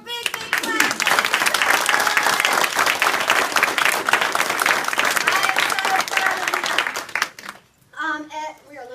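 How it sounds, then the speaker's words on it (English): An audience claps hard after a children's Christmas play, a dense burst of applause lasting several seconds before cutting off, followed by a voice speaking briefly at the end. "Give them one more big, big clap."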